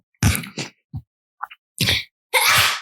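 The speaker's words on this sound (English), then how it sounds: "Excuse me. I sneezed." A single sharp sneeze stands out among a few brief, soft vocal sounds and small noises, fairly close.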